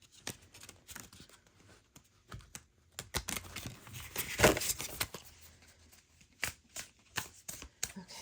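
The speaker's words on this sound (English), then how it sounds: "do a little side shuffle here." Side shuffle of a tarot deck, close and fairly quiet, with rapid papery flicks and taps in uneven bursts and a denser riffle midway, no voices.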